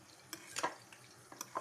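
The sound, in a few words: dates frying in a pan for date tajine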